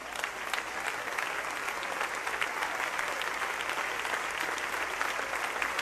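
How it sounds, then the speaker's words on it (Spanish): Sustained applause from a church congregation at a funeral service, a dense, even wash of clapping heard from a distance at moderate volume, with no voices standing out. "¿Cuánto le pueden dar un aplauso al Señor?"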